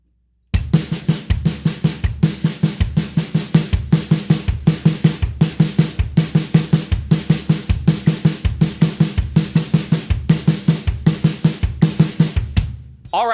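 Drum kit playing a linear fill pattern in which the kick drum shifts position each measure, with rapid alternating kick, snare and tom hits in a steady, driving repeated rhythm, close and loud, with no talking.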